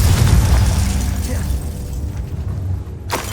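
Confringo fire spell going off in Hogwarts Legacy, a loud dense explosive roar at the start that rumbles and fades, ending in a brief sharp whoosh.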